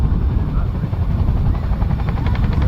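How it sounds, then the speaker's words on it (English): An RAF Chinook twin-rotor helicopter flies its display at an airshow, its loud, close rotor thump and broad engine roar holding steady throughout. "tilt the rotor disc in a fashion which will decelerate the aircraft before it eventually comes to a stop"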